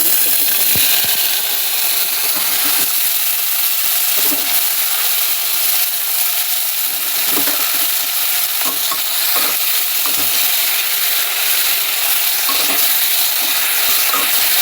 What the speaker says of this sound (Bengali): পাঁচফোড়নটা ভাজা ভাজা হয়ে গেছে।